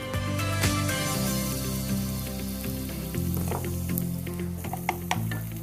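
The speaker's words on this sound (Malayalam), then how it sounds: "ഉള്ളി നന്നായിട്ട് വഴറ്റുന്ന സമയത്ത്" Finely chopped onions fry with cumin seeds in hot oil in a pan, a steady close sizzle with occasional stirring clinks and scrapes, no speech.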